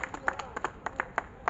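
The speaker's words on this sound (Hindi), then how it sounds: "उनके लिए आप लोग एक शानदार ताली बजाएं" An audience at a business meeting in Bhilwara, Rajasthan gives a short burst of applause, a sparse, thin patter of separate claps from a small crowd, with no talk.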